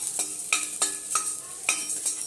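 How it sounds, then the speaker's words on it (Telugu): Edible gum (gond) fries on a low flame for ragi laddoos, with rhythmic scraping stirs about every half second over a soft, close sizzle. "ఇప్పుడు ఈ గోందు వేసేస్తున్నాను. ఇది కూడా సిమ్లోనే పెట్టి ఫ్రై చేసుకోవాలి."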